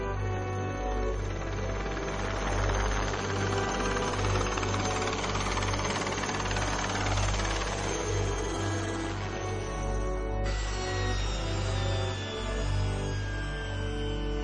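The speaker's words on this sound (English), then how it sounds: "The helicopters disappear immediately after their Santa Claus act." Army helicopters lifting off and flying away after landing, a loud, continuous engine and rotor roar with a steady low throb, holding strong throughout with a slight shift partway as the aircraft move off.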